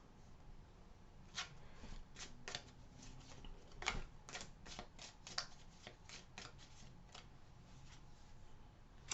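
Tarot cards are shuffled close up, giving a steady stream of soft riffling flutters and sharper card snaps throughout, with no voices.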